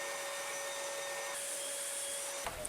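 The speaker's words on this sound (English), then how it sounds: "tuck the shop vac in to hopefully suck up some of that dust that's kicking out" Shop vac running while a dryer vent duct is cleaned, a loud steady whine and airflow roar with a rising hiss partway through and a brief knock near the end.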